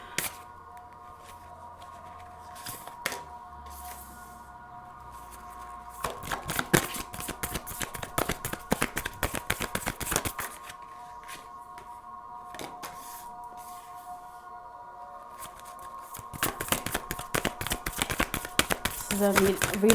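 Tarot cards are shuffled and drawn in soft bursts of riffling and flicking, close and fairly quiet, with quiet gaps between rounds of shuffling.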